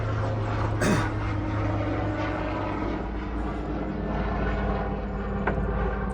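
An airplane passes overhead near an airport, a loud, broad rumbling roar that holds steady through the whole stretch, with no talk on top.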